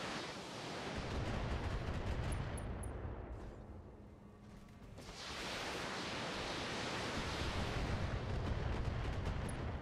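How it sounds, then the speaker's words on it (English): A BattleTech missile salvo fired at several enemies at once, a loud sustained roaring rush of launches and impacts that dips briefly in the middle before surging again. "Firing on multiple enemies."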